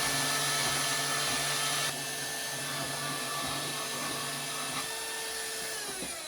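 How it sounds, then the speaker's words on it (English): A cutoff or abrasive cutting tool slices through a Jeep exhaust pipe, a steady loud whine with a high metallic edge running throughout, easing slightly after the first two seconds and cutting out at the end. "we're gonna cut it and then put the band on"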